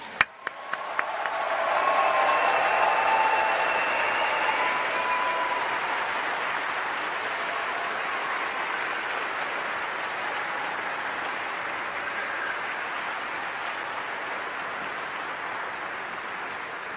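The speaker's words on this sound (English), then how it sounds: "give them another round of applause" A large audience applauds new nursing graduates at a university hooding and recognition ceremony, a few sharp claps at first swelling into sustained broad applause that slowly thins over seventeen seconds.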